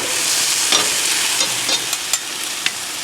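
Bean sprouts and vegetables fry on an outdoor grill top in a stir fry, a loud continuous sizzle close by with occasional sharper scrapes from stirring, no voices.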